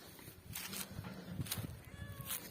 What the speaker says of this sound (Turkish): Sen ne diyorsun kedi?